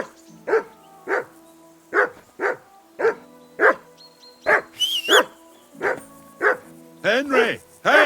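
In Kingdom Come Deliverance II, a dog barks repeatedly in a rhythmic series of loud, close barks, with a brief whistle-like sound partway through.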